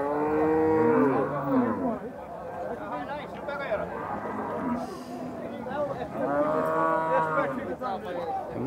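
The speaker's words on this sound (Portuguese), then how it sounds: "Muitas vacas aqui hoje, pessoal." Several cattle moo loudly and repeatedly at a livestock fair in Campina Grande, with long drawn-out calls overlapping amid crowd chatter and people talking nearby.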